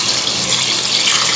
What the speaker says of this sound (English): Now we'll add a thin coconut milk.